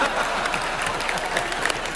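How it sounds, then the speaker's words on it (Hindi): An audience at a comedy show claps in a steady, moderately loud patter of applause that carries on without pause. "ताली ठोक भाई।"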